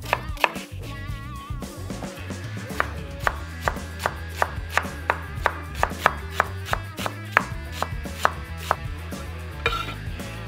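A knife chops a dry onion on a board for stuffed red peppers, a steady run of sharp, evenly spaced cuts close up over about ten seconds, with no talk.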